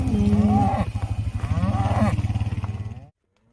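Cattle on a drive to summer pasture moo loudly and close, a long drawn-out bellow that pulses and wavers for about three seconds before cutting off to silence.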